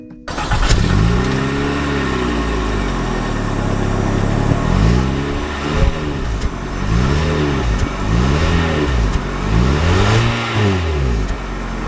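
A 2022 Mitsubishi Outlander Launch Edition SUV pulls away with its engine rising and falling through several rev sweeps, close and loud, with no voices over it.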